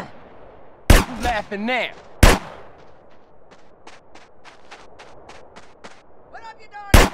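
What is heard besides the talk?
gunfire in video game GTA San Andreas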